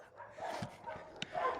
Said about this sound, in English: God, look at all the dogs.